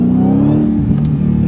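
Dodge Challenger Hellcat accelerating hard as its ZF 8-speed automatic drops down a gear, a loud, deep engine roar with a rising rev pitch and a brief shift change, close and alone.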